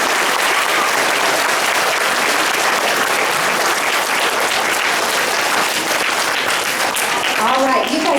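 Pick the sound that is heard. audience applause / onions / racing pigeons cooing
audience applause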